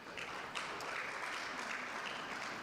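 An audience at the Uganda National Journalism Awards gala gives the judges a round of applause, a continuous wash of many hands clapping that sounds faint and distant.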